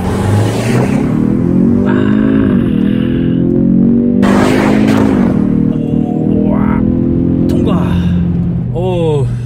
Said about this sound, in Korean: 이제 런치 컨트롤을 작동을 하고 출발하겠습니다